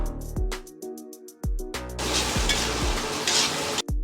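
Tomatoes sautéing with onion and curry leaves in a pan, with several sharp spoon knocks against the pan and then a steady close sizzle with more stirring clinks, no talking.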